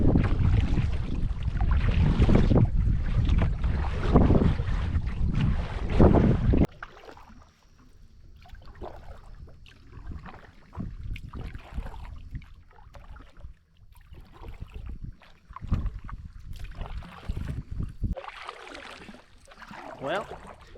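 A light new canoe moves through waves on Bell Lake, with rhythmic water slaps and sloshing against the hull under gusty wind noise on the microphone; a voice talks at times over it.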